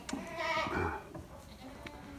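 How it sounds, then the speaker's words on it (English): Young kid goats bleating in a barn during a South Dakota blizzard, one long wavering bleat up close followed by fainter calls from other kids, with no talking. "lots of kid goats here, and we had pretty good kidding"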